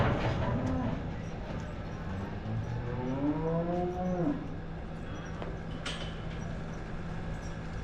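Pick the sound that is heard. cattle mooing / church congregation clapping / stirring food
cattle mooing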